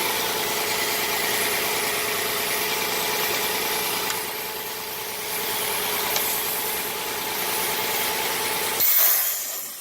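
A 2012 Volkswagen Passat 3.6L engine idles steadily with a steady near mechanical hum and faint hiss, a vacuum leak causing high idle RPM, and it runs evenly throughout before a brief shift near the end.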